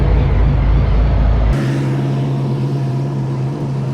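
A Chevrolet C10 truck with an independent rear suspension roars loudly and continuously at close range. The engine note is deep and steady, and it shifts tone partway through with a sustained low drone.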